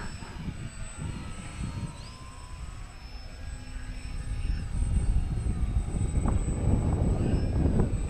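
A small foam radio-controlled airplane flying slowly overhead, its thin electric motor whine drifting and shifting in pitch at a moderate distance, with outdoor rumble growing louder toward the end.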